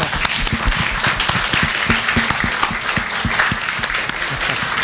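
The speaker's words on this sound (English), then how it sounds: "What is in order now, I think, is another round of applause." A lecture audience applauds steadily after a public talk on translation, with dense, continuous clapping at close range filling the whole stretch without voices.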